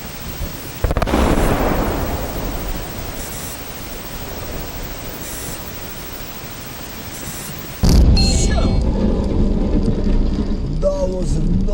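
A rocket explodes shortly after launch, giving a loud sustained broadband roar that drops back briefly and then swells again with a sudden heavier blast, heard from a distance.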